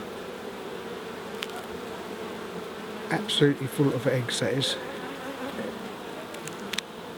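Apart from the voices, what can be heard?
honeybees buzzing in hive as worker bee emerges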